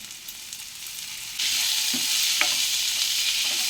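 Frozen green peas dropped into a pan of frying potatoes for a curry, giving a steady sizzle that jumps louder partway through and continues with faint stirring scrapes, no talking.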